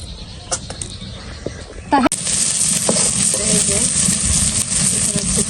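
Onions hit hot oil and burst into a loud, steady sizzle of frying for a hilsa fish curry, staying close and continuous after a brief clatter, with a voice talking faintly beneath.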